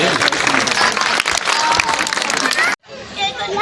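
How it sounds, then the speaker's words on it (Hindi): An audience applauds at an honoring ceremony during a temple foundation-day bhajan evening, sustained loud clapping from a crowd that cuts off abruptly near the end, followed by quieter room sound. "तालियां जरूर हम लोग बजाएं।"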